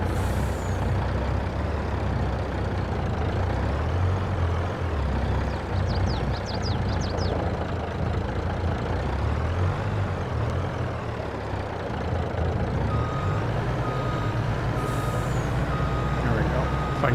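A loaded truck hauling popcorn in Farming Simulator 22 runs with a constant low diesel drone, a brief burst of reversing beeps and hissing air brakes, and a voice talks over it throughout.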